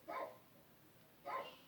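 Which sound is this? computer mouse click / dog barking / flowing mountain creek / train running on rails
dog barking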